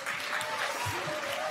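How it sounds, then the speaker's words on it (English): Audience applause at the UN Youth Climate Summit: a brief, steady wash of clapping from a large crowd lasting under two seconds, evenly loud throughout, with faint voices mixed in beneath it. "So give her a round of applause"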